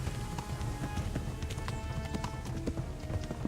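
A horse gallops in the Kingdom Come Deliverance video game with rapid, rhythmic hoofbeats pounding steadily and close for a few seconds over a dense rumbling background.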